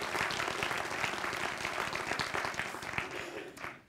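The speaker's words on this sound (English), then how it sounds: "A round of applause for Rancho Cordova." Audience applause after a community college district center is introduced at a spring convocation, steady dense clapping from a large crowd that fades out near the end.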